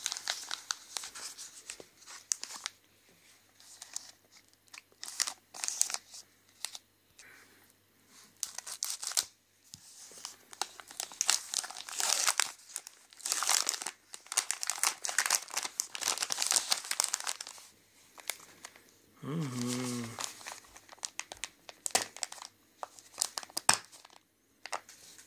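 A Svitoch classic dark chocolate bar from Ukraine has its wrapper torn open and crumpled in repeated crinkling bursts across the whole span, close and fairly soft, with a brief low rumble near the end.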